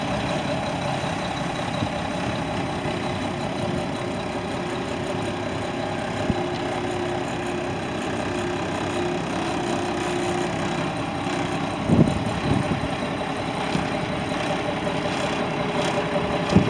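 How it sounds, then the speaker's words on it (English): A 1999 Mack CH613 truck with an E7 350 hp engine and 10-speed Eaton Fuller transmission idles steadily nearby, a continuous low rumble with a few brief knocks and no talk. "Got a 1999 MACK CH613 E7 350 horse MACK engine, 10-speed EATON-FULLER transmission."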